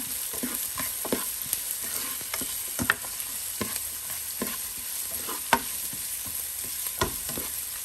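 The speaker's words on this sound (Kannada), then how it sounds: "ಸೊ ಇದನ್ನು ಸ್ವಲ್ಪ ಚೆನ್ನಾಗಿ ಎಣ್ಣೆಯಲ್ಲಿ ಫ್ರೈ ಮಾಡ್ಕೊಳ್ಳೋಣ." Garlic and onion fry in oil with a soft, steady sizzle, punctuated by clicks of a stirring utensil at close range and no voices.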